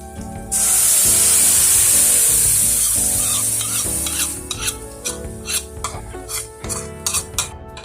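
A burst of loud sizzling, then rhythmic scraping strokes of a spoon stirring food around a pan, with soft music underneath.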